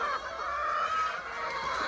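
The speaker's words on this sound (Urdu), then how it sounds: "ماشاء اللہ یہ میاں پولٹری فارم کی مرغیاں ہیں" Golden Misri and Sussex hens on a poultry farm in Punjab, Pakistan, clucking steadily as a busy flock, with a continuous chatter of overlapping calls at close range and no talk.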